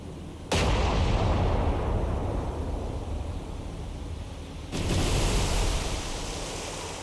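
Naval artillery fire in the War on the Sea game: two heavy booming gun blasts, one near the start and another about four seconds later, each followed by a long rumbling roar that fades out slowly.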